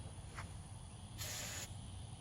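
A brief hiss of starter fluid sprayed into the engine of a 1956 Chevy pickup, a short puff followed by a longer burst of about half a second, close up over a low idle-like rumble.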